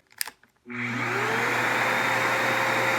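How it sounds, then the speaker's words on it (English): An upright vacuum cleaner with a failing motor starts abruptly and runs with a steady, loud whine and roar, its pitch sliding slightly as it strains. "I'm going to turn the vacuum on here so you can kind of hear that the motor is in bad shape."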